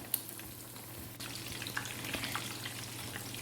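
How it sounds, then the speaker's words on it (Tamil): Batter-dipped fish bajji frying in hot oil: a soft, steady bubbling hiss with scattered small pops, fairly quiet and close throughout. "இப்போ இது ஃப்ரை ஆகிட்டுருக்குது."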